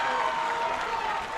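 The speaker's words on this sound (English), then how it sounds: "the crowd erupts" A crowd at a women's college water polo match between UCLA and USC cheers and applauds loudly and steadily throughout, a dense roar with no clear pauses.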